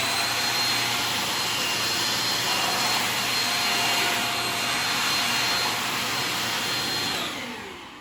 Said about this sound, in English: Once I'm done vacuuming with those two brushes